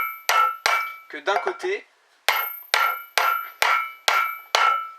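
A wheel bearing is driven into its housing with a hammer and a tool, giving eight sharp metallic taps at a fairly steady rhythm, close and loud, with a brief spoken phrase between the second and third strikes.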